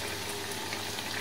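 Neem leaves coated in rice flour frying as pakoras in a pan of hot oil, giving a steady, even crackling sizzle that holds close and moderately loud throughout, with no talking.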